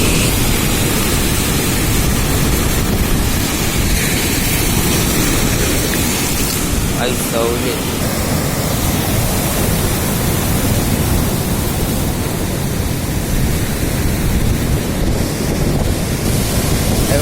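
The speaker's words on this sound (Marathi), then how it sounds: "लाटा एकदम जोऱ्यात तिथे खवल्यात" Strong ocean waves crash at Nandgaon beach in Konkan, a loud unbroken roar of surf mixed with wind buffeting the microphone, with no break throughout.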